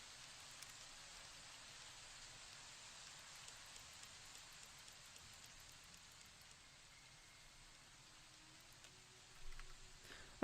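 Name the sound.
rain weather effects in Fallout New Vegas video game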